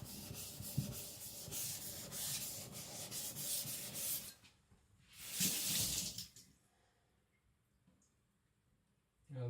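Victorinox Chinese cleaver rubbed flat across a sharpening stone in close, steady scraping strokes, two long passes separated by a quiet pause.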